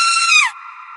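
A woman's harrowing scream in a horror tale: one loud, shrill cry of about a second that slides downward in pitch, then thins into a steadier, quieter wail.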